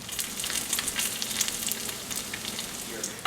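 Thick slab bacon fries in a pan with a steady, dense sizzle and crackle at close range, moderately loud, with no talk.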